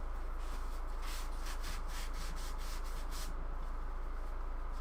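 Blade sharpened on a flattened 400 grit waterstone, steady rhythmic back-and-forth rubbing strokes, close and fairly quiet, with no voices.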